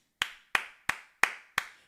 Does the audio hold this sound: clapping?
yes